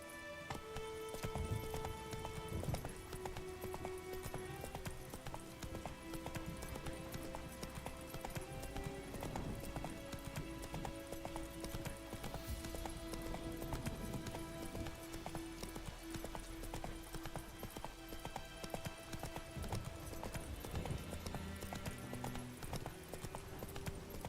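The horse Roach gallops in the video game The Witcher 3: Wild Hunt, a fast, steady clip-clop of hooves running continuously under a layer of music and ambient game sound, with an occasional faint whinny.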